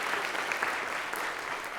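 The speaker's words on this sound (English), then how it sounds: "Give them a round of applause." A concert audience applauds its leaders with a steady, even wash of many hands clapping, close and fairly loud, sustained without pause and no speech on top.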